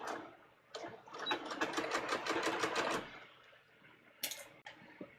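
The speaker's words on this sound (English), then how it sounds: "now let's sew this. So again, I'm going to sew this at 1/2 inch." A sewing machine stitches a straight half-inch dress seam in a fast, rattling burst of about two seconds, quiet and close, followed by a few soft clicks and handling knocks.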